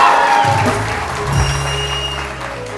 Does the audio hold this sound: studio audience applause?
yes